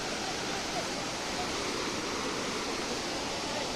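The Athirapally waterfall gives a constant, dense roar of rushing water that stays steady and unbroken from start to end, heard from a moderate distance.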